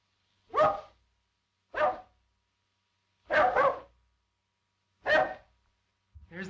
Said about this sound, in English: There's that bark again.